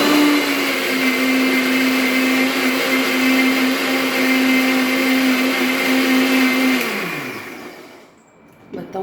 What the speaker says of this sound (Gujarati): ફરીથી આપણે એને મિક્સરમાં પીસીશું